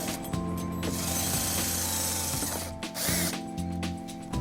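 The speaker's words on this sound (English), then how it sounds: "we're gonna use a 5/16 drill bit to drill our first hole" A power drill with a 5/16 drill bit boring a hole through the bottom of a 2019 Infiniti QX60 bumper, a close, loud whirring grind that surges for about two seconds between short motor bursts and ratcheting clicks.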